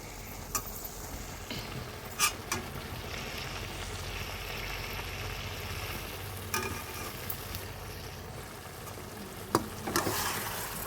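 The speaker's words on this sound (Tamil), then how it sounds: "சிக்கன் மசாலா சேர்த்து நல்லா வதக்கி விட்டுக்கலாம்" Chicken pieces coated in chicken masala sautéing for a village-style chicken fry, a soft steady sizzle with occasional louder scrapes and clatters of the stirring spoon against the pan, fairly quiet and without talk.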